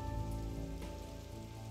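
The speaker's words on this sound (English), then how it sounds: "The autumn rains have arrived and will last until spring" Autumn rain falls steadily through a wet coastal forest, a soft continuous patter of drops on leaves and surfaces, quiet and even throughout with no voices.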